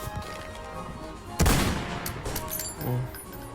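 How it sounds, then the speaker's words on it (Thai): Gunfire from a gun in a Roblox fighting game: one sharp, loud burst of shots about a third of the way in, then a weaker second volley near the end over a steady game background. "เดี๋ยวลองเล่นปืนนี้ดิ ลองยิงดูนะผม"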